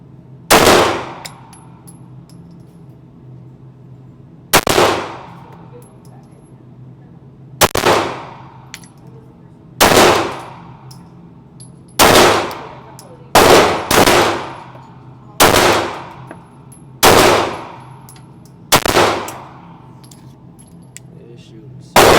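Glock 17 pistol shots fired at a range, about ten sharp, loud reports spaced a couple of seconds apart, with two fired close together and faint talk between them.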